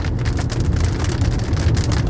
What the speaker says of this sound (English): this hail is huge. Dude! Huge hail!